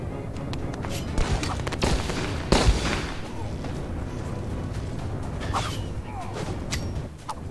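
Explosions and gunfire from the battle game Zooba, a dense barrage of bursts and booms with a louder blast near the middle, running continuously beneath game noise throughout.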